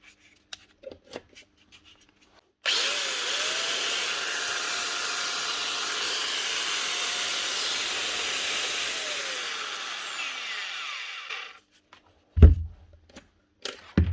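A repaired power tool from a fishing boat is switched on and runs for about nine seconds, a steady loud whirring motor hiss with a slight rubbing edge that spins down, with clicks and handling knocks before and after.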